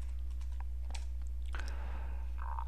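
Keys tapped on a computer keyboard while a web address is entered, a short irregular run of faint clicks over steady background hum, ending in a brief burst of quick keystrokes.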